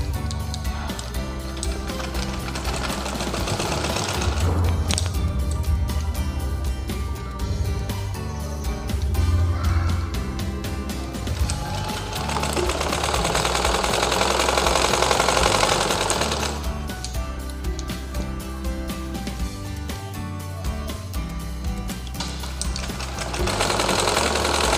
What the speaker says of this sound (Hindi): निशान लगाने के बाद यहाँ से हम सिलाई कर लेंगे।